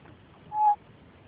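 An African grey parrot outdoors near cows gives a single short, honk-like call, loud against quiet background, imitating a cow's moo.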